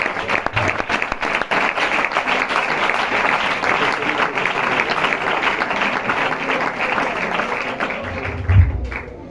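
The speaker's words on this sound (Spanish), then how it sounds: "Un aplauso para el Señor." A church congregation claps in sustained, dense applause at a Bible study gathering, with loud, even clapping throughout and a low thump near the end.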